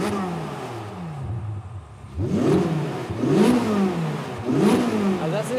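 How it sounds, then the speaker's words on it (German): A 645-horsepower Chevrolet Corvette Z06 engine revs hard three times in quick succession, each rising whine climbing high before dropping, after a quieter idle at the start. "Man hört jetzt schon, dass der Motor sich anders anhört."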